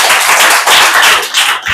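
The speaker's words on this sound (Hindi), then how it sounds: "ताली बजा दो।" Students in a science classroom clap together in a quick burst, a loud, close patter of many hands lasting under two seconds, with no voices heard.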